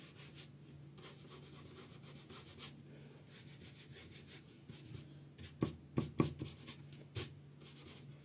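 Paintbrush rubbed back and forth on a tray being decorated in a nautical style, a soft steady scrubbing that turns into a few louder, quicker scrapes near the end, close and quiet with no voices.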